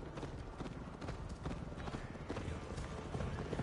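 Horse hooves galloping in Assassin's Creed Valhalla, a dense rapid clatter of hoofbeats carrying on throughout, loud and close, with some faint background sound.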